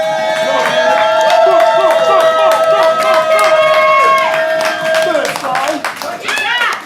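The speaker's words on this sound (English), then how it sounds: "Big round of applause." Audience at an Orlando poetry slam applauds and cheers loudly and steadily for about seven seconds, a dense wash of clapping with whoops, while a sustained tone and scattered voices sit over the crowd noise.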